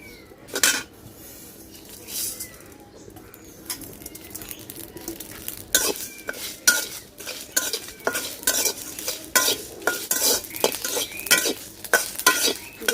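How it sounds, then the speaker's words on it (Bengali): Whole spices, including dried leaves, fry and crackle in a pan over the flame, with spoon scrapes and stirring clatter. Sharp pops and clinks repeat irregularly, growing busier in the second half, close and fairly loud with no talking. "মশলা ভাজা হয়ে গেছে এখন নামাই নেব"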